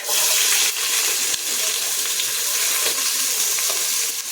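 Chopped onions for Chettinad-style chicken biryani hiss and sizzle loudly in a hot pan, a dense continuous crackle with a few faint clinks of stirring.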